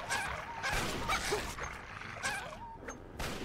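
A dog in the video game Fallout 3 yips and whimpers in quick bursts, with short barks mixed with whiny cries, loud and close against game background noise.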